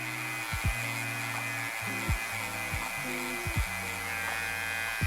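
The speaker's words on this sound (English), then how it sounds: "Now I'm going to use my clipper, so fully open." An electric hair clipper buzzes steadily and close during a buzz cut, its motor tone shifting briefly several times as the blades move through the hair, with a faint hiss in the background.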